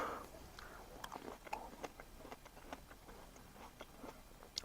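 Faint, close crunching of someone biting and chewing a crisp Darvika table grape, a string of small sharp crackles and wet chews spread over several seconds with no talking.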